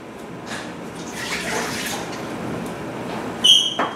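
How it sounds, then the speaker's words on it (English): Water pours into a pan for beet-pickling brine, a soft continuous splashing stream heard close and alone, ending with a brief higher ring from the pan. "we're going to add 2 cups of water"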